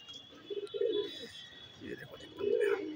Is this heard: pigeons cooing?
yes